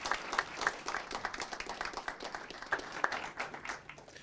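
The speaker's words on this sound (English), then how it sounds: "if we could give Battalion Chief Rodriguez one more round of applause" People at a city council meeting give a round of applause for a battalion chief, a steady patter of many hands clapping in a hall, fairly quiet and even throughout.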